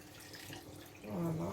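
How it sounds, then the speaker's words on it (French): Hot water is poured into a bolognaise sauce, making a soft, steady liquid pouring sound that swells louder near the end, with no talking. "On va rajouter le reste d'eau chaude."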